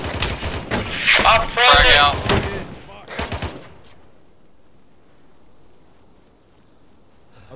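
Artillery fire in a Halo mod game: a burst of heavy booming blasts and shots, loud and close for about three seconds with a brief call spoken over it, then fading into a low, quiet rumble.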